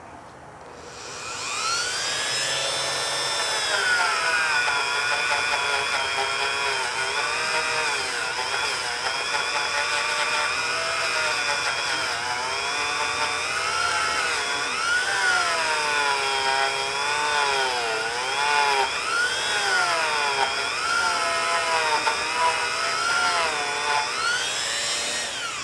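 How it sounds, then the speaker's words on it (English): Wire wheel cleaning antique Briggs lever-start engine parts, a loud, steady high-pitched whine and grinding hiss with wavering pitch as the piston is pressed against the spinning brush, alone and close by. "clean that out and hit that with a little wire wheel while we got it out"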